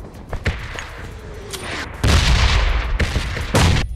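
A grenade blast in the shooter game PUBG Mobile, a loud booming burst that rolls on amid scattered sharp gunshot cracks and thumps, with no talking.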